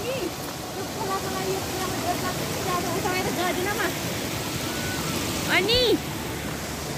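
A forest stream flows in a broad, steady rush close by, with a voice talking over the water throughout.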